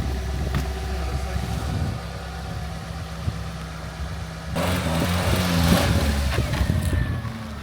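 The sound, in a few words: used car from Copart driving forward, engine running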